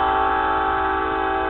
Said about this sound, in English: This guy's just going to come through blowing his horn like he got the right of way.